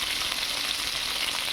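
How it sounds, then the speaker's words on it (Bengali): Bitter gourd sizzles as it fries in oil in a pan for a Bengali bitter gourd and shrimp recipe, an even, continuous hiss with no voices over it. "উচ্ছেটা একটু আমি ভেজে নেব"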